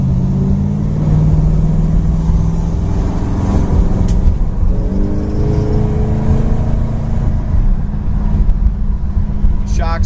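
A 1968 Plymouth Road Runner rolls along with a steady low engine drone and road rumble, while someone talks over the top of it.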